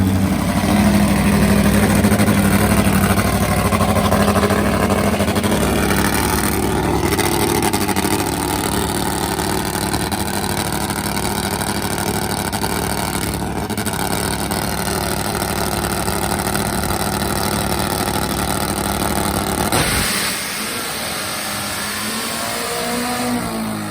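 A 1,500-plus horsepower top fuel nitro drag racing motorcycle engine runs as a steady, loud, dense roar for about twenty seconds, then cuts off abruptly, leaving a quieter rumble behind.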